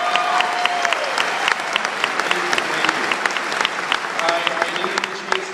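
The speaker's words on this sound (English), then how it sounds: "can we get a round of applause for the mothers out there?" An audience at a commencement speech applauds steadily and loudly, honoring mothers ahead of Mother's Day, with crisp clapping filling the room throughout, dense and sustained without fading.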